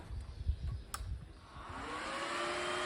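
A second-hand electric fan is switched on and runs with a steady, smooth whirring hum that rises in after a few clicks and handling noises, close and fairly loud, with no talking.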